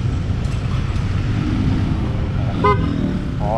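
A PIAA OTO-style horn fitted to a Yamaha NMAX V1 scooter gives one short, loud, car-like honk over a steady rumbling background, and a second honk begins just as the sound ends.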